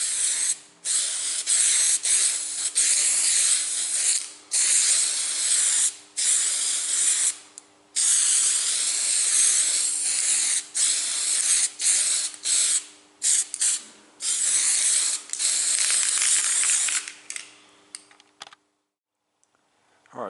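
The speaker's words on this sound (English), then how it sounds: "let's matte varnish this road" Spray can of matte varnish misting over a model railway road surface at a level crossing scene: repeated close hissing bursts, each a few seconds long with short pauses between, ending in sputters.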